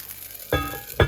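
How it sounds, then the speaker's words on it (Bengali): Rice-flour chitoi pitha batter hitting a hot, water-wiped pan, two sudden bursts of loud sizzling about half a second apart, each hissing strongly then settling. "কড়াইটা ভালোভাবে গরম করে নিয়েছি তারপর পানি দিয়ে মুছে এখন আমি ব্যাটার দিয়ে দিলাম এক চামচ"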